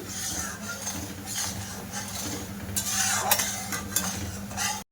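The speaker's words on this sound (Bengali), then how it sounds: "দেখো চিনিটা ভালো করে ফুটিয়ে জাল করে নিচ্ছি" Sugar syrup bubbling on a stove while being cooked down for khaja sweets, with a low continuous simmer and occasional utensil clinks and scrapes, louder stirring near the end before a sudden cut.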